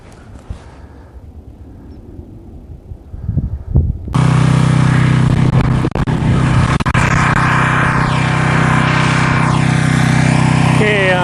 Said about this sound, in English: That's the pressure washer one running.